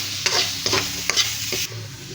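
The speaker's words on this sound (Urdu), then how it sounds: "اور اب اس میں آلو اور گاجر، یہ اب ہم اس کو اچھے سے فرائی کریں گے اسی میں۔" Potatoes and carrots fry in a karahi, with several scraping strokes of a spoon at an even pace over a constant close sizzle. The sizzle eases slightly near the end, and no one speaks.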